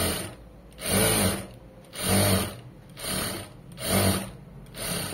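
Sewing machine stitching a seam on a garment: rhythmic bursts of mechanical whirring, about five short runs roughly a second apart separated by brief pauses, close and fairly quiet with no voices.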